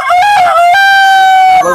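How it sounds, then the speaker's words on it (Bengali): A large native rooster at the Mirpur 11 bird market in Dhaka crows once, loud and close, in a single long drawn-out call. "দর্শক দেখতে পাচ্ছি আমরা একটা বিশাল সাইজের কি দেশি মোরগ"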